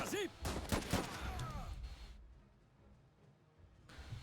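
Bursts of gunfire in the Civil War–era video game Last Train Home, a few sharp shots early on and then fading to quieter background, with a faint voice in the mix.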